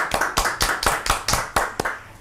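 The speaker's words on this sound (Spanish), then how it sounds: "Queremos pedir un fuerte aplauso a todos acá en el estudio" A studio audience applauds with brisk, steady clapping, loud and close, in rhythmic bursts of hands striking for a couple of seconds with no talking over it.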